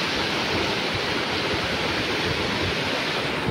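River water carrying sediment down from the mountains in Davao de Oro, where people pan for gold, rushes past in a steady, dense, loud wash with no voices over it.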